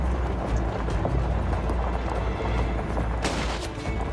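Continuous rattling gunfire from a Call of Duty Modern Warfare 2 battle scene, dense bursts with low rumbling booms layered throughout, loud and steady with a sharper crack near the end.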